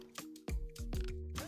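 Sauvignon Blanc poured into a glass, a quiet liquid stream with gurgling and dripping into the glass over a second or so, close and without talk.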